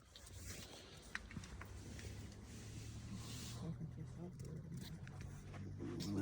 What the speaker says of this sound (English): this is the start process